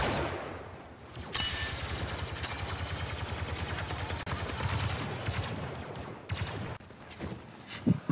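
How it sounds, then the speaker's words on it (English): Rapid bursts of game gunfire in Star Wars Battlefront 2 rattle through a house, dense automatic shooting with a few sharper single cracks, loud and close throughout. "Now they're shooting in the house."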